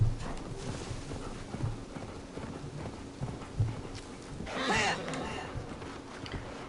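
Hooves clip-clop at a steady trot as a horse runs in Assassin's Creed Valhalla on PS5, the rhythmic thuds moderately close and layered under game ambience and faint voices.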